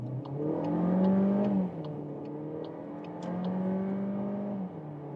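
A VW 1.5 TSI 150 horsepower petrol car accelerating hard in sport mode from low speed, engine note climbing in pitch through gear changes, heard steadily from inside the cabin.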